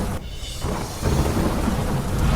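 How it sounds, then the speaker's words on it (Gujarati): Heavy monsoon rain pours down with rumbling thunder over Mehsana, Vadnagar and Unjha in Gujarat, a dense, loud roar that swells after a brief dip, with no voices. "મહેસાણા શહેર સહિત વડનગર અને ઊંઝામાં પડ્યો વરસાદ"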